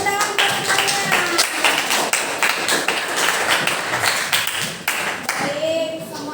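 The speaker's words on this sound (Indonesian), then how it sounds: "Iya, tepuk tangan buat semuanya." A school class claps hands together in a classroom, uneven rhythmic bursts of clapping with voices mixed in, lively and close throughout.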